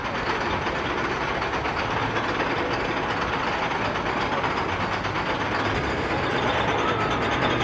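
The Stealth roller coaster train at Carowinds amusement park rumbles and clatters along its track in a continuous loud roar with rhythmic clacking, heard from nearby without speech.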